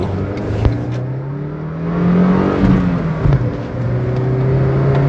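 A nearby 2016 Honda City 1.5 Aspire engine revs up and down toward its 7,000 RPM redline, its pitch rising and falling in a steady, loud whine.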